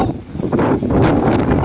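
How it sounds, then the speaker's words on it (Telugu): Strong gusting wind during a rainless windstorm in Vijayawada roars loudly and close, buffeting the microphone with surging broadband rushes and a faint rustle of leaves. "ఓన్లీ గాలి మాత్రమే ఉంది, వర్షం లేదు"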